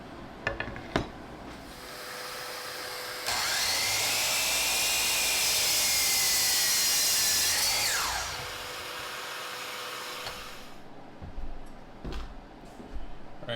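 A miter saw cuts a 45-degree angle through walnut: the motor whines up, the blade bites in a loud, steady cut of about five seconds, then winds down, with workshop thumps before and after.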